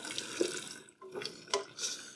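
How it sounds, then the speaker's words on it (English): Water from a kitchen sink tap runs and splashes as cooked spaghetti is drained, a steady close rush with a brief pause midway and a few sharper clatters, heard alone without talk. "I'm going to go ahead and drain the pasta."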